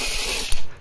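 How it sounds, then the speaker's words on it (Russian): A ratchet with a 10 mm socket loosens a bolt on an Audi, Skoda or VW DSG DQ200 gearbox, giving a quick, close, loud mechanical clicking burst followed by a short metallic clack. "Теперь торцевой головкой на 10 откручиваем"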